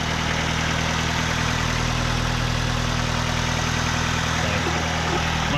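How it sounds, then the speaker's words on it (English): A car engine idles steadily at a slightly raised speed with the choke on, a smooth continuous hum with low rumble and no talking. "we've got the engine running, sounds nice and smooth, there's no issues"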